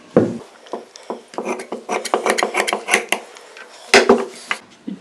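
Cloth being cut with scissors while stitching a layered frill chudidar, a series of close, irregular snips and rustles with a louder burst near the end, a voice talking over part of it.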